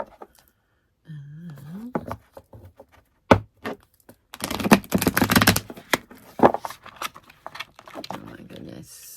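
Cards from an archetype tarot deck are shuffled in quick bursts of crisp riffling and slapping, with a dense flurry in the middle, while someone speaks briefly and hums at the start.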